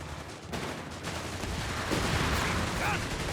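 Gunfire and artillery rounds crack and rumble through a dense, continuous wash of battle noise in the Company of Heroes 3 real-time strategy game, with overlapping shots and booming blasts throughout.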